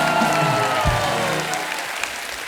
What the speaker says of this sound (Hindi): एक बार जोरदार तालियां हो जाएं पंजाब के शेर के लिए।